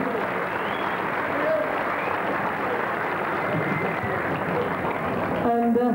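Audience applause at a live concert at Firato Amsterdam in 1982, a dense, steady wash of clapping across the whole stretch, with crowd murmur beneath it.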